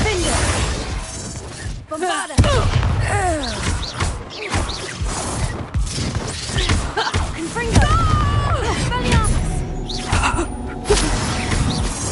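A Bombarda spell explosion from the Hogwarts Legacy video game bursts in loudly after a brief near-silent gap, then gives way to dense crashing, shattering and mechanical clatter from the ongoing magical combat.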